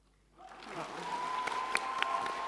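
A crowd applauds at a TwitchCon community panel, with clapping swelling in after a quiet start and holding steady and dense throughout.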